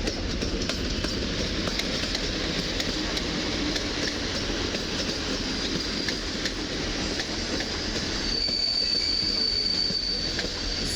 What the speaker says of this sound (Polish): Wjeżdża EP07 537